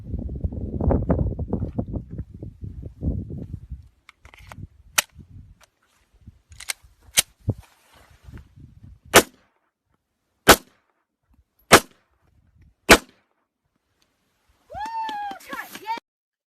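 Gunshots fired at a rigid plate armor vest ring out as a series of sharp, loud isolated cracks, several spaced a second or so apart, following a stretch of talk, with a brief voice at the end.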